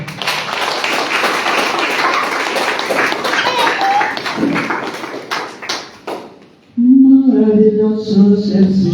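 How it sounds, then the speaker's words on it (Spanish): A worship congregation claps along during a church service, with rhythmic hand claps mixed with voices. The clapping breaks off briefly before singing with music comes in. "Bien, palmas a ver."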